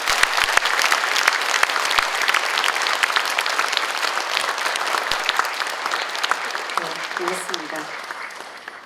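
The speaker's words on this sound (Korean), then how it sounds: "우리 모두에게 서로에게 격려의 박수 한번 칠까요?" An audience at a book concert held with families of the Sewol ferry disaster victims applauds warmly and continuously, a dense wash of many clapping hands with faint voices mixed in.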